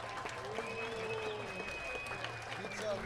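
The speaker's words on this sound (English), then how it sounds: "Big cheer for Ireland and the fantastic fighter that he is." Crowd at a 2019 IMCF combat championship cheers and applauds an injured fighter being lifted off the field, with scattered clapping and whistles under a commentator's voice, moderately distant.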